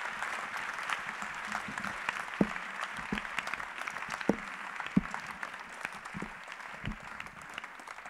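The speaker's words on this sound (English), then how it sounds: "Clap for Jesus" Church congregation in Mampong, Ghana clapping for Jesus at a 2015 service, a fairly faint, steady spread of applause with a few sharper individual claps standing out, and no speech over it.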